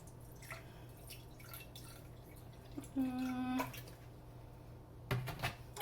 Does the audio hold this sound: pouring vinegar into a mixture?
yes